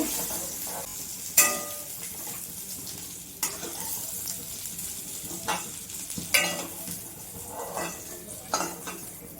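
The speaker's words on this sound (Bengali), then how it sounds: "আলুগুলো ভেজে নেব, দিয়ে দেবো লবণ।" Potatoes fry in a pan with a steady close sizzle, broken by repeated scraping strokes of a spatula or spoon stirring against the metal.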